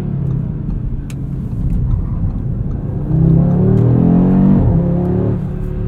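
A 2022 Audi RS 3 engine with a 7-speed dual clutch in manual mode drones steadily from inside the cabin, then swells louder as it revs higher, with a brief dip like a gear change near the end.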